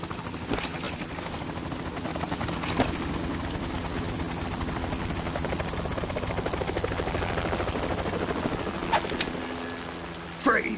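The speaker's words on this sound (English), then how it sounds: "You will be on the helicopter out of here now." A helicopter in Metal Gear Solid 2 drones and thrums steadily and loudly throughout, with sharp clanks and bursts breaking through over the constant rotor noise.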